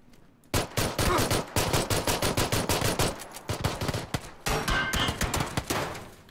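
Rapid automatic gunfire from a video game on a cheese-themed map, dense bursts of loud close shots in quick strings with brief gaps, no talking.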